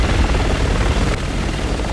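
Helicopter in the video game Resident Evil 6, a steady loud rotor drone filling the whole stretch without a break, with no voices over it.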